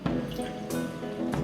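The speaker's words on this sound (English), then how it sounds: "add some more water, which I'm just going to do now" Water poured into a drink shaker, a short close liquid splash and trickle with small drips, filling steadily for just over a second.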